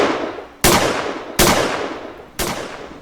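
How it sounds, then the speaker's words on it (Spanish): Three sharp, loud gunshots from a revolver crack out one after another at near-even intervals, each followed by a long reverberating decay. "sonaron, uno seguido de otro, 6 disparos de revólver"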